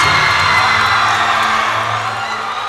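Basketball crowd of Aquinas College Aces fans cheering at a senior boys high school game, a steady broad roar of voices filling the gym without pause.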